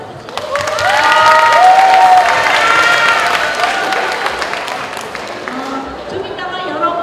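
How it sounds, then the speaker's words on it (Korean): An audience of students at a science mentoring workshop applauds for the boys among them, with clapping that swells quickly into loud applause mixed with cheers and shouts, then gradually tapers off. "우리 남학생을 위해서 박수 한번 쳐주시죠."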